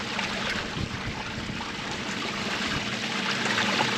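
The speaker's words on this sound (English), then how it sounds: "I can actually use the water to wash the lighter material out the top. Swirl it, get it back in the pan." Water sloshing and trickling steadily in a gold pan as lighter material is washed out over the top, a continuous close-up swishing.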